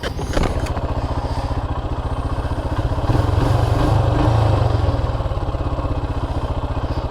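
Royal Enfield Himalayan motorcycle engine idling up close with aftermarket mods, a steady low thumping pulse throughout whose revs rise briefly in the middle and then settle back down.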